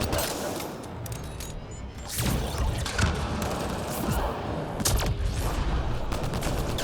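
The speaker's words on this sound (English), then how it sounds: "It's a turret." Turret gunfire in the sci-fi shooter Mass Effect: Andromeda, a run of sharp repeated shots and thumps over continuous combat noise, loud and close throughout.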